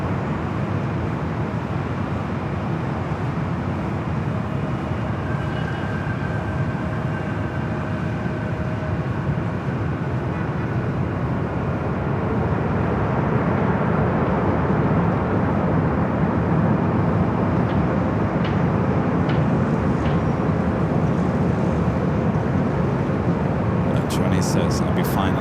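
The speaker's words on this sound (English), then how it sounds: "Coming up from Tokyo Narita on the 787-9 and Dreamliner wearing the One World livery." A Boeing 787-9 Dreamliner in oneworld livery, arriving from Tokyo Narita at Los Angeles International Airport, sounds as a sustained jet roar that grows louder partway through, with people talking over it.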